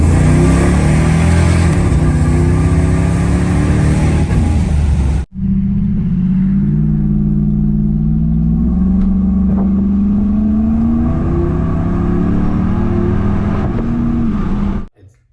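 A supercharged 1995 Ford Lightning pickup runs its engine at full throttle, roaring loud and close with rising pitch through the gears, breaking off in a brief gap before climbing again.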